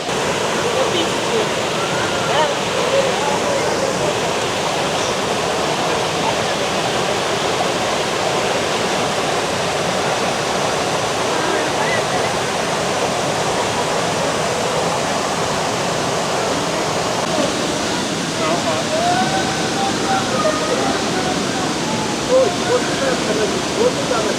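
The Algar Waterfalls near Benidorm roar in a steady, dense rush of broadband noise, close and unbroken, with faint voices occasionally beneath it.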